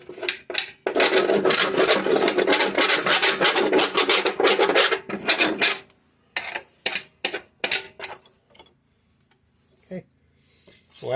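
Gunk scraped off the underside of a filthy, neglected Toro Recycler lawn mower: a long stretch of fast, close rasping strokes, then scattered shorter scrapes and pauses.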